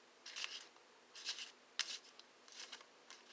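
Tarot cards from a Game of Thrones tarot deck being shuffled, quiet crisp riffling bursts repeating roughly every second, close and faint with no talk.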